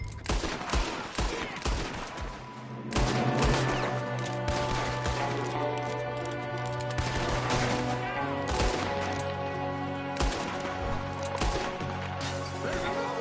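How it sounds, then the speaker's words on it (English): Heavy gunfire fills a Red Dead Redemption 2 shootout, with shots fired from a window. Dense, overlapping gunshots and volleys crack close and loud the whole time, with a sharper burst about a quarter of the way in. "There's another one shooting from the window."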